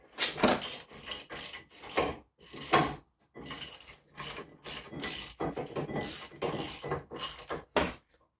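A small wrench works a brake bolt on a 2014–2018 Jeep Cherokee Trailhawk, giving close, quick bursts of ratcheting clicks separated by short pauses, repeated about a dozen times.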